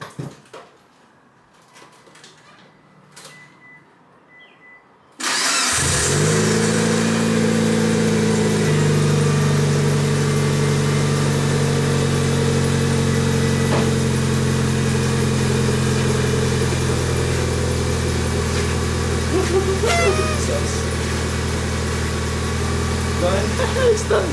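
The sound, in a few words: car engine starting with new exhaust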